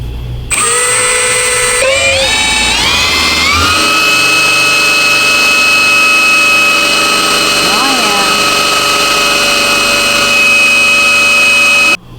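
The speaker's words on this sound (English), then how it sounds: "just run this pump by this here little doodad and build some pressure" Hydraulic steering pump on a 1958 Hillman Husky build, running to build pressure: a loud, steady electric whine that steps up in pitch over the first few seconds, then holds a continuous high drone.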